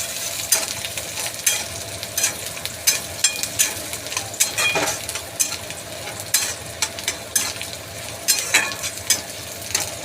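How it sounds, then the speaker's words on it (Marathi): Chopped onion fries in a pan for a Maharashtrian methi and peanut bhaji, a constant close sizzle broken by repeated scraping strokes of a spatula stirring at an uneven rhythm, with no voices. "कांदा मस्त असा हे करून घ्यायचा, शिजवून घ्यायचा।"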